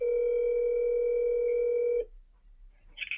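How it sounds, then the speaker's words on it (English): A steady phone ringback or dial tone plays over a speakerphone for about two seconds. It is loud and even, then cuts off into a brief quiet gap. "Get him on the old speakerphone."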